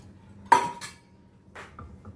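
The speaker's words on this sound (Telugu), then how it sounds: "స్టవ్ వెలిగించి దీని మీద ఒక కడాయి పెడదాము." A metal kadai pan is set down on a stove with one sharp clank, a second lighter knock right after, then a few soft clinks as it settles.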